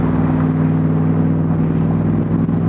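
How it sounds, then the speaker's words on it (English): A 1965 Shelby Cobra replica cruises in high gear at about 60 mph and around 1,500 RPM, a loud, steady in-cabin engine drone with strong low harmonics and rushing road and wind noise, no talk. "Okay, we're cruising about 60 miles an hour here."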